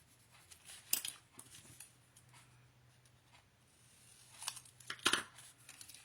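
Paper being cut with scissors for a large expandable scrapbook folio, two sharper bursts of snipping and crinkling near the start and end with softer handling rustles between, quiet and close.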